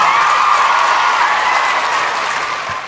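Loud audience applause for finalists at a televised talent show semi-final in Kolkata, a thick continuous roar of clapping from a large crowd, easing slightly toward the end.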